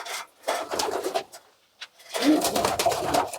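Pigeons coo in a pigeon loft, soft low burbling calls coming in two bursts separated by a short quiet gap, close and fairly faint.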